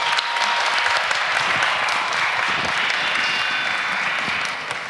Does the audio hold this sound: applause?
yes